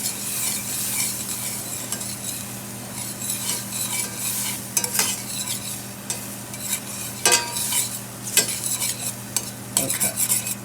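Onions sautéing in a pan, a steady low sizzle under repeated scraping and stirring strokes of a utensil, with the stirring growing more vigorous toward the end, close and clear with a constant hum behind it.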